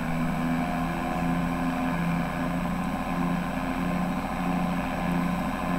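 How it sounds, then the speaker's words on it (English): A tractor engine idles and runs in Farming Simulator 22 during silage work, giving a steady, droning mechanical hum with layered tonal whine that stays level throughout, with no talking. "so I have to run the tractor"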